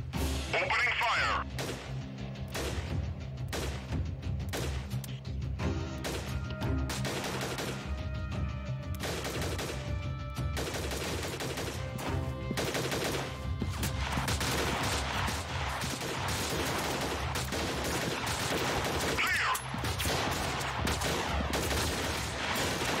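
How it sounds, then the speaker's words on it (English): Rapid gunfire in the guerrilla war game Freeman Guerrilla Warfare: The Glorious Republic, dense bursts of shots and heavy impacts running almost nonstop at close range, with players talking over the battle. "Opening fire."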